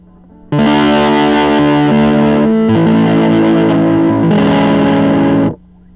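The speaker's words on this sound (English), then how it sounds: "Then you have fuzz. Very loud." Loud fuzz-pedal-distorted electric guitar playing sustained chords, thick and buzzing, in three strummed phrases before cutting to quiet.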